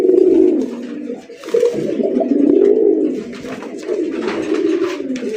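Red pigeons of a prized breed coo in low, throaty rolling phrases, several birds close by overlapping in repeated bursts, with faint higher rustles between calls.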